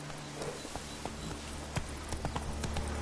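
Roach, the horse in the video game The Witcher 3, trots with steady clip-clop hoofbeats at a quick, even rhythm over a faint background, with no voices.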